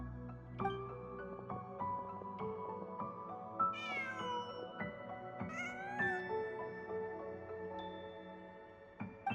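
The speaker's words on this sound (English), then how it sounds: "Just a cat." A cat meows a couple of times in the video game Genshin Impact, faint and brief against a quiet, sustained musical background.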